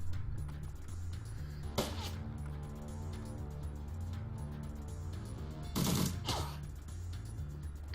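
Gunfire from the turn-based game Shadowrun: Dragonfall rings out in two loud bursts, spaced a few seconds apart over a low, steady musical backdrop, each burst a sharp crackling volley.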